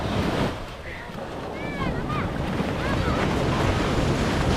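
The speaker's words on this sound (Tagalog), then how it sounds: "Malalaki ba naman ang alon?" Big ocean waves surging around a small boat at sea, a continuous loud wash of surf and water with heavy wind buffeting the microphone throughout.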